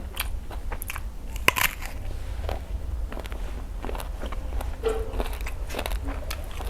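Crunchy bites and chewing of fresh eggplant eaten with spicy Thai fermented shrimp (kung jom) and hot steamed rice, close and soft, scattered irregular crunches over a low background rumble.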